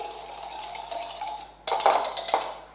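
Sugar whisked into egg yolks for homemade vanilla ice cream, a quiet rapid rhythmic whisking in a bowl that turns louder and more clattery toward the end, close up with no talk.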